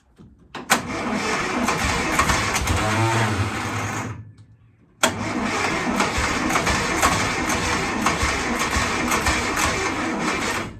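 Vehicle engine, newly wired at the dashboard, starts and runs loudly and steadily for several seconds, cuts out briefly, then restarts and keeps running close by.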